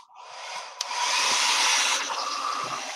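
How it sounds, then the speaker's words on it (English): Defective hair dryer switched on and blowing, a loud, close, steady airy whoosh that builds over the first second and holds with a slight shift in tone partway through. "I just noticed that this is a defective hair dryer"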